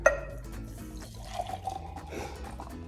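A chia seed fruit drink is poured into a container, giving a soft liquid splash and gurgle with a rising filling tone, fairly quiet and without talk.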